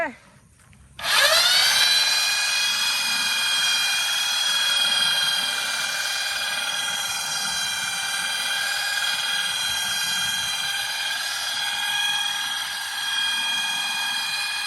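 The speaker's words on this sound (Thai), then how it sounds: "อันนี้เป็นเจาะให้มันเนียนเนาะ" A power drill bores into wood during table building, starting abruptly and holding a steady, loud, high whining tone close by for the rest of the stretch.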